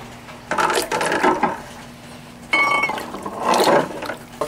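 Rusty metal parts dropped and slid into a tub of water one after another, with splashing clinks and sloshes in two bursts, close by and with no talking.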